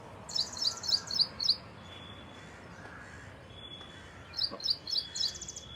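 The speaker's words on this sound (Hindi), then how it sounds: "आओ भाई चिड़िया जी, ये भी खूब बोल रही है" Small birds chirp in two quick bursts of bright, repeated tweets, with a quiet gap between them and soft background ambience.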